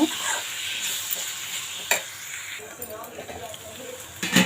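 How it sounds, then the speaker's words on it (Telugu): Eggplant pieces stirred in a pan of frying ginger garlic onion paste for a village-style eggplant and mango curry, with soft scraping strokes over a steady sizzle and a few sharper clinks, close up. "ఇప్పుడు వంకాయ ముక్కలు వేసేసుకుందాం మనం ఇవి ఒకసారి బాగా కలిపేసుకొని"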